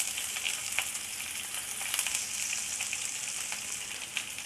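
Oil sizzling steadily in a frying pan before onions go in, a dense, even crackle with small pops scattered throughout, close and continuous with no voices.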